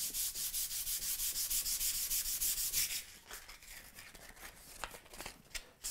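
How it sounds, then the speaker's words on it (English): Hand sanding a cricket bat along the grain with a clean piece of sandpaper: steady, close rasping strokes in an even rhythm, then lighter, sparser rubbing as the strokes ease off. "Just a nice clean piece of sandpaper, and all we're going to do is just go along the grain."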